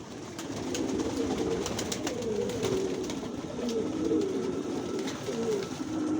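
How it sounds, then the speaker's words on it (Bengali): Johnson-line racing pigeons coo steadily inside their loft. The soft, low, overlapping calls continue throughout at a moderate, even level. "অরিজিনাল রেসার, জনসন লাইনের, সব একই লাইনের কবুতর"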